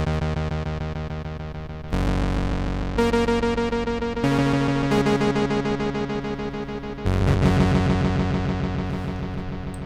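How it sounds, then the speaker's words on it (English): Sustained synth chords drenched in MiniVerb reverb plugin set to 100% feedback, each new chord layering over an endless wash that builds denser and slightly louder, with no talking. "this controls the overall feedback amount of the reverb"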